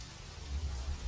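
Steady rain in the Rainlands of the Anode Heart video game, a continuous hiss with a low rumbling underlayer, moderately loud and unbroken.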